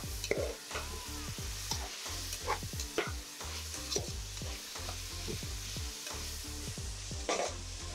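Onions frying in oil toward golden brown for a paneer pulao, with steady soft sizzle under repeated scraping strokes of a spoon stirring the pan, close by, no talk.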